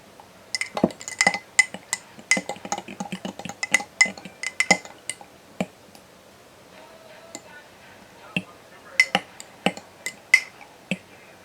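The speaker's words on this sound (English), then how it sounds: "Let's give that a poke and a stir." A spoon clinks and scrapes in a dish while reconstituted freeze-dried peach cobbler is poked and stirred, giving a close, irregular run of sharp taps and clinks with short pauses and a quieter patch in the middle.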